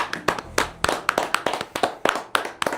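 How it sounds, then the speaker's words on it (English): A small group claps briefly, a sparse handful of distinct, uneven hand claps close to the microphone rather than a full crowd. "Should we give a brief round of applause?"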